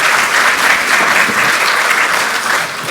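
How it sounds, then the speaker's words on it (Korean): Loud, dense audience applause fills a political party meeting hall at a ruling-party assembly in the Korean National Assembly, steady and unbroken from start to finish with no talking. "힘찬 박수로 맞이해 주시면 감사하겠습니다"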